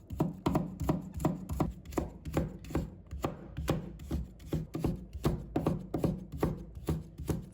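Knife cutting carrot into thin strips on a cutting board, a fast, steady run of crisp chops close by, each stroke a sharp thud against the board, with no voices.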